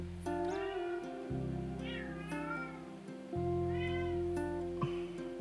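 A cat meows repeatedly, long drawn-out wavering cries one after another, close by over a steady low background hum.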